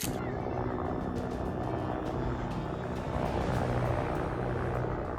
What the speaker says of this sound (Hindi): पाकिस्तानी फौज ने हाईजैक के फौरन बाद बोलान की ओर ये हेलीकॉप्टर इस अंदाज में उड़ाए थे